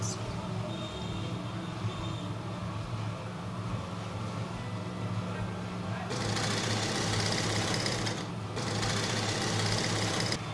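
A sewing machine stitches fabric for a flare gown, giving a steady mechanical whir that runs continuously and grows louder and brighter partway through, with a brief dip near the end.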